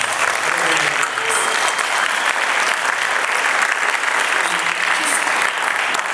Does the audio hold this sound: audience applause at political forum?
yes